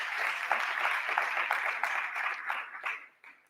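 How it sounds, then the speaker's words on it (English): An audience at an annual general meeting gives a round of applause, dense clapping at moderate volume that thins out and fades toward the end. "Please give the board and the chairperson the round of applause."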